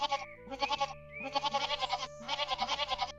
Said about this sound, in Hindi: और बकरी के बच्चे फिर शोर मचाना शुरू कर देते हैं।